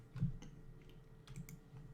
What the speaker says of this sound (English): We can go right here and just type it in,